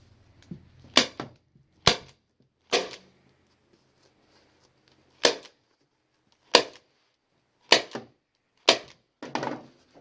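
A staple gun fires staples through fabric into a chair seat bottom, giving eight sharp, close snaps at irregular intervals with silence between them and no talking.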